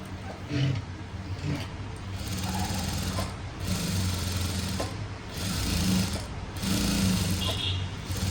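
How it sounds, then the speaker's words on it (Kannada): A sewing machine stitches a blouse slowly, running in several bursts of loud whirring motor drone with short pauses between them, close by and with no speech. "ನಾನು ತುಂಬ ನಿಧಾನಕ್ಕೆ ಸ್ಟಿಚ್ ಮಾಡೋದು ಫಾಸ್ಟಾಗಿ ಏನು ಸ್ಟಿಚ್ ಮಾಡಲ್ಲ"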